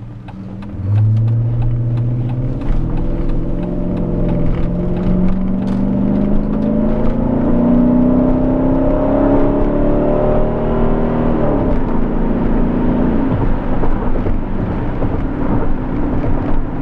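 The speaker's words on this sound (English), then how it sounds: "short test drive of this 2006 Dodge Magnum RT." A 2006 Dodge Magnum R/T with its 5.7-liter Hemi V8 starts pulling away loudly, engine note rising steadily through the gears for about twelve seconds, then easing into a lower steady cruise, close and uninterrupted.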